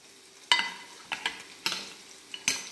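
A spoon stirs homemade sesame powder into a dish, making four or five distinct scraping strokes at an uneven pace, close and clear, with no talking.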